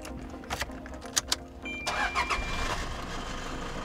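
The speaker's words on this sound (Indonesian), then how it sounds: "Dinyalain dulu mobilnya biar lebih adem pastinya." A Toyota Fortuner diesel engine is started from inside the cabin: a few key clicks and interior sounds, then the starter cranks and the engine catches, settling into a steady diesel idle nearby.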